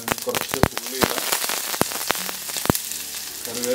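Onion frying in hot oil with mustard seeds for a pulisseri tempering, a dense sizzle with frequent sharp pops and crackles up close, some stray speech faintly in the background.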